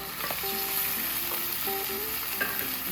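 Cooked white rice frying in a pan crackles and sizzles steadily while it is stirred, with scraping strokes and light clinks close by, and no talking.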